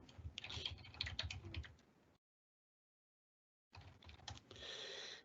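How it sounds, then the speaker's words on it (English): Quick bursts of typing on a computer keyboard, close and clear, with rapid key clicks, a sudden dead silence in the middle, then another run of clattering keystrokes. "go to the bottom side and type an answer here"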